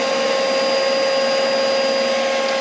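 A dust extractor runs in a woodworking workshop, a steady, close, loud vacuum-like roar with a constant whining tone throughout.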